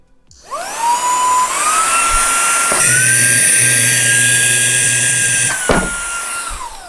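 A powerful car vacuum cleaner runs loud and steady: its motor whine rises as it spins up, then holds a sustained tone with brief pitch shifts as the suction load changes, before easing slightly at the end.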